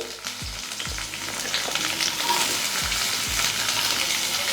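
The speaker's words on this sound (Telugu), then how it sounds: "ఉల్లిపాయలు ఇప్పుడు పెనవలో వేస్తున్నాను" Chopped onions frying in a little oil in a pan, a steady broadband sizzle with a few low thumps as pieces drop or shift, close and continuous with no talking.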